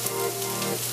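Onions sizzle steadily in hot oil in a pan, a constant close crackling hiss with no talking.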